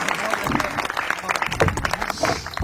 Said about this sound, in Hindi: जोरदार तालियां बजाकर इस युवा का स्वागत